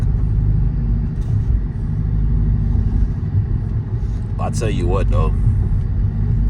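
A Dodge Charger R/T engine idles after a cold start with a low, steady rumble close by, at night, while someone speaks briefly over it near the end.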